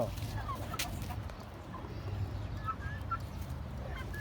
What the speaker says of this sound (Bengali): এই যে রায়ানে মুরগি বাচ্চা দিয়ে দিলাম